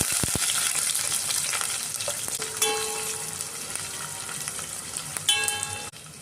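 Onions, bay leaf, cinnamon and cloves frying in hot oil for tomato paneer, a steady close sizzle with a few scrapes of a stirring spoon and brief metallic clinks.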